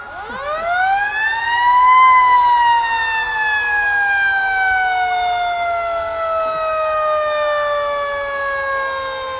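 Emergency vehicle sirens wail at a street parade, a loud, close tone that rises and then slowly falls, holding over several seconds.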